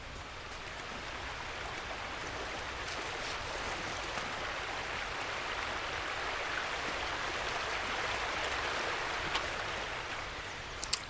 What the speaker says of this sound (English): crossing this river ain't going to make a darn bit of difference.